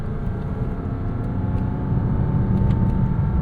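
A Porsche Cayman S engine hums steadily from inside the cabin during rev matching, its drone swelling slightly louder toward the end.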